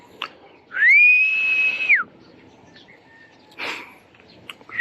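A single sustained whistle, clear and fairly loud, held for about a second, with a few faint bird chirps around it in a quiet outdoor setting.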